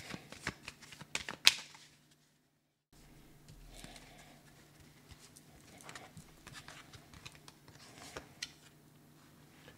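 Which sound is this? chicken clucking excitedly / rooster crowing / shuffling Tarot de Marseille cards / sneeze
shuffling Tarot de Marseille cards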